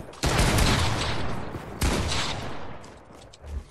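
Bursts of gunfire in the Fortnite video game, a loud volley at the start and another about halfway through, each trailing off, with no talk over them.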